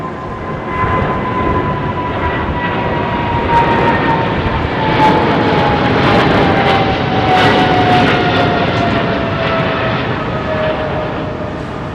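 A jet airliner takes off from runway 09R bound for JFK, a loud sustained roar with a falling engine whine that swells toward the middle and eases slightly, with no talk.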